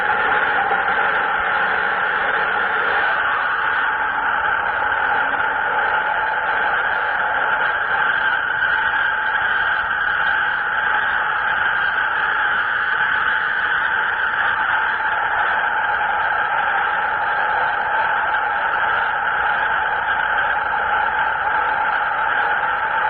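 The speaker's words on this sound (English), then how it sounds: "Actual recordings of a UFO." Purported UFO giving off a steady whirring, turbine-like drone, with stable tonal bands running unbroken and fairly loud for the whole stretch over a hiss of background noise; no one talks.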